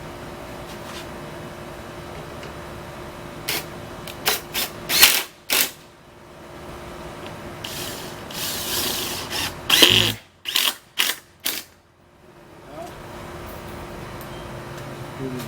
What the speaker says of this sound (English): I have to screw the sides onto the top here.